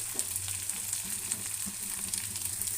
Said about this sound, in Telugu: క్యారెట్ తురుము కొత్తిమీర చిన్నది కరివేపాకు చక్కగా వేపేసుకుందాం